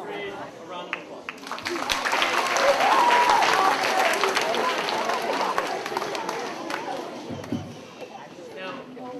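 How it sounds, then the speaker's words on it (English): A school assembly audience applauds a sixth grade class, steady sustained clapping filling the hall for the full stretch, with cheers and voices mixed in. "Let's give our sixth grade a round of applause."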